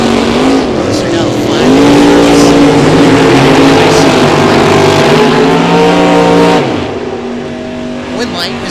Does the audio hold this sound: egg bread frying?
no